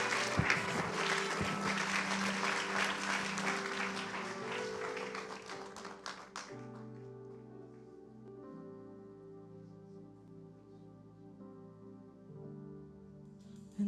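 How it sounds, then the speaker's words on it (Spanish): Church congregation clapping in praise for several seconds, a busy wash of hands under music, then fading as sustained keyboard or organ tones carry on alone, fairly quiet overall. "dele palmas al Señor de la gloria"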